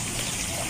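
Floodwater from rice paddies and fields pouring into a house during Typhoon Paeng, a continuous rushing, trickling flow, close and steady, with no voices.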